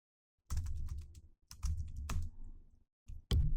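Typing on a computer keyboard while entering text in BidMatrix construction bidding software: short, close bursts of soft key clicks separated by brief pauses.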